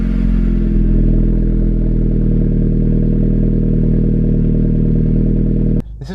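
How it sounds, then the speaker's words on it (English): A SEAT Leon with a Cobra non-resonated aftermarket exhaust idles with a deep, steady, loud exhaust rumble, close by, cutting off abruptly near the end. "You would have already heard the Cobra non-resonated exhaust, which sounds delightful."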